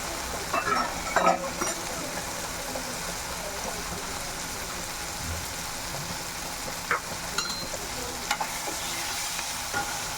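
Chopped coriander sautés in a pan with tomatoes, with tapioca to follow, giving a continuous close sizzle, faint bubbling and a few scraping stirs near the start and toward the end.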